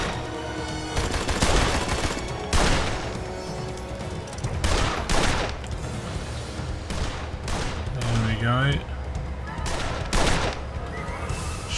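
Gunfire in the Western noir video game Blues and Bullets, with sharp shots breaking out at irregular intervals over a busy game soundtrack, plus a brief rising whinny-like sound in the middle.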